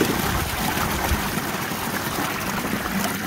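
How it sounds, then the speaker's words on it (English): Water from a koi pond filter being back flushed drains out steadily in a broad, continuous rushing wash, close and loud, with no voices over it. "Let's give it a, a back flush."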